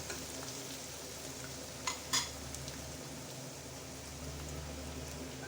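Onion paste frying in oil in a pan, a steady soft sizzle throughout with a couple of brief utensil clinks partway in; no voices.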